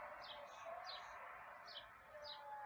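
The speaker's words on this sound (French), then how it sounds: "Les petits oiseaux chantent," Small birds singing outdoors on a fine day, several short high chirping phrases repeating at a moderate distance over a steady airy background hum.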